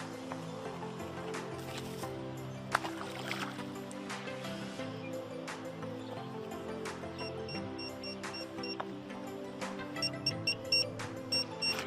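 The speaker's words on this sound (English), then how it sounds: "It's just beeping up a storm." An inexpensive fish finder beeps repeatedly from a boat over water, a quiet series of short tonal chirps at irregular intervals over a soft background hum.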